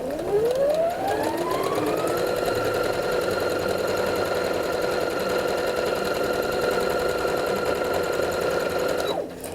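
A sewing machine runs steadily, stitching fabric with a very short stitch length of about 1.5 to 2 on curved seams. Its motor whine rises at the start, holds an even drone for about nine seconds, then stops abruptly.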